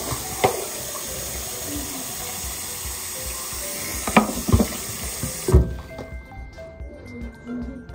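Water running steadily from a tap, not hot, a continuous splashing hiss with a few clinks and knocks, then the flow stops near the end.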